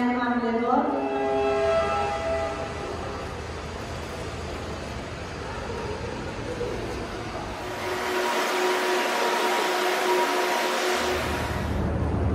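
Steady rumble of a Tehran to Bandar Abbas train at a station, with a horn-like tone at the start and a hiss of air later; voices murmur in the background.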